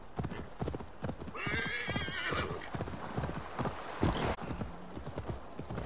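Horse in Assassin's Creed Valhalla whinnies loudly over a steady clip-clop of hooves, the galloping rhythm continuing throughout with a sharp bump near the end.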